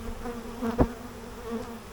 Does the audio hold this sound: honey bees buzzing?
yes